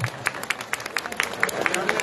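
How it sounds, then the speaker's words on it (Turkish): Rhythmic clapping from a crowd at an outdoor Black Sea highland festival in Tekirdağ, with evenly spaced sharp claps under a steady hum of voices and chatter. "Koçumuza bir alkış."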